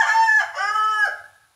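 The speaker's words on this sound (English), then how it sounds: "because that rooster might not be happy about it" A rooster crows once, close and clear. It gives a full cock-a-doodle-doo lasting about a second and a half, rising and then trailing off, with no other sound around it.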